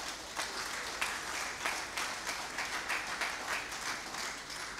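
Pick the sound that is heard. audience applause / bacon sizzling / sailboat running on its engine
audience applause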